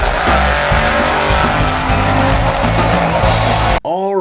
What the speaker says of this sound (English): quite possibly the coolest thing you can do in a rear-wheel drive vehicle that front-wheel drive can't even dream of doing is the wheelie